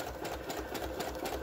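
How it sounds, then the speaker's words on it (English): A sewing machine whirs steadily at close range while sewing a loose zigzag stitch on a handmade ring binder journal, with a continuous rhythmic mechanical buzz throughout. "I like doing a messy zigzag stitch."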